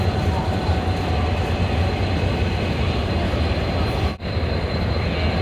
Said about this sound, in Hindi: 4554 GU20 general electric universal 2000 HP का बेहतरीन सा लोकोमोटिव